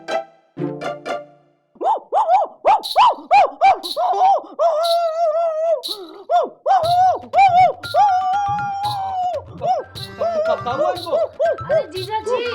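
A woman imitates a dog, letting out a rapid run of yelping, bark-like vocal bursts that rise and fall, loud and close, with a low hum joining partway through.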